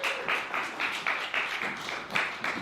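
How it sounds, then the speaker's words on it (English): Audience clapping for a group of actors taking their places on stage, a steady patter of hands with rhythmic bursts, moderately loud and fairly close, no talking over it. "Give them a round of applause, too."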